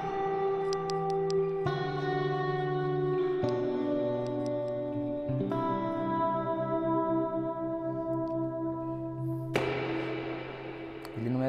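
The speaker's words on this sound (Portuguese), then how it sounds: "eu vou estar mostrando aqui pra vocês primeiro o plate, beleza? Que é um reverb mais curto, né?" A Strymon Blue Sky reverb pedal set to its shorter plate mode, with clean guitar chords struck one after another and each ringing out into a smooth, bright wash of reverb tail, several strums over about eleven seconds without talking.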